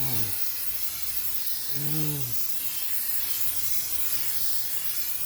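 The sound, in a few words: spraying rubberized undercoat under a car for rust protection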